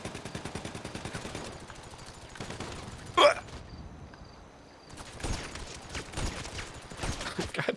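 Gunfire in GTA V, a rapid rhythmic series of close, dry shots broken by one sharp louder crack and a brief pause before the firing resumes.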